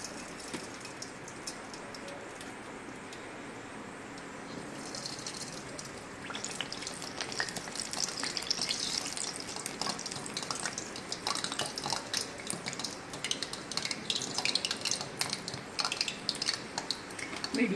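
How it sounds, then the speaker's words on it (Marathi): Dahi vada batter dropped into hot oil over a medium flame, breaking into a loud, steady crackling sizzle after a quieter opening stretch, with no talking. "आपण आता वडे सोडून घेऊया याचे"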